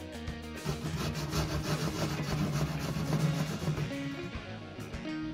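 Carrots rubbed steadily against the finest side of a grater for a Brazilian carrot cake, a continuous scratchy rasping that runs close and fairly loud for several seconds with no talking.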